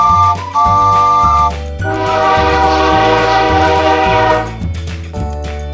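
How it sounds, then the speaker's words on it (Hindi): A train whistle sounds at a small station in an animated children's story, with a long sustained tonal blast in the middle framed by shorter rhythmic hoots and rumbling, loud and close, with no voices. "ट्रेन की सीटी बजी और सब रेलगाड़ी में बैठ गए"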